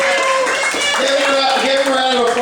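Dense, continuous applause and crowd noise for a best-dressed winner at a lively, raucous party night, with voices cheering and shouting through the clapping.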